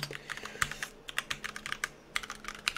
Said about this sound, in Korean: 키보드에 있는 키를 하나씩 이렇게 눌러보게 되시면